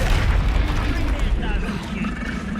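A loud, rumbling boom from a Confringo spell blast in Hogwarts Legacy on PS5, with a deep, sustained roar that slowly fades while a voice speaks over it.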